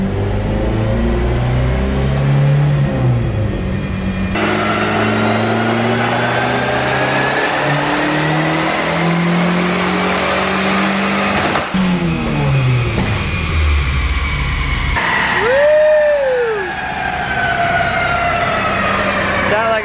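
A Nissan 300ZX Z32, refreshed after sitting for two years, revs hard on a dyno, its engine note climbing and falling in loud sustained pulls that fill the whole stretch, with harmonics sweeping up and down.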